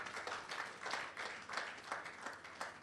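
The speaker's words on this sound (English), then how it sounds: "Please give them a round of applause" An audience applauds winning schools at a national science and maths quiz balloting event: sustained crowd clapping with a faintly pulsing rhythm, even and moderately loud throughout, with no talk over it.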